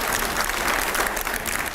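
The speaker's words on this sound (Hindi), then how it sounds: "पहले जोरदार तालियां" Brief burst of dense audience clapping in an interview studio, steady and fairly loud throughout with no pauses.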